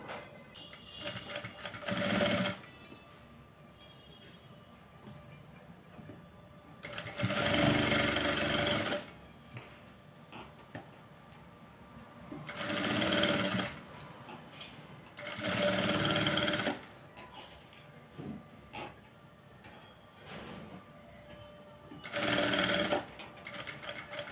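A sewing machine stitching a blouse armhole, running in several loud close bursts of rapid whirring stitches separated by quieter pauses of cloth handling.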